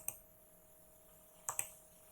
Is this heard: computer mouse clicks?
yes